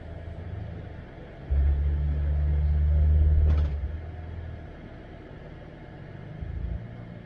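An off-road 4x4 rig grinds up and over rocks on a steep, sandy, low-traction trail near Big Bear, its engine rumbling low and surging louder for a few seconds before easing back, then swelling briefly again.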